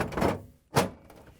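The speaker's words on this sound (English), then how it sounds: "and close the door." A Samsung refrigerator door is swung shut after the ice bin is slid in: a brief sliding rub followed by a firm thunk, close and moderately loud, no voices.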